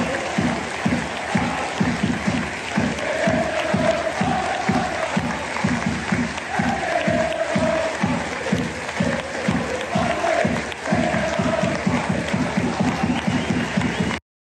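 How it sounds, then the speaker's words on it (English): A large football stadium crowd gives a minute of applause before a match against St Mirren, clapping steadily throughout, swelling into a loud, rhythmic pulse that continues without a break. "This was a planned minute of applause before Sunday's game against St Mirren."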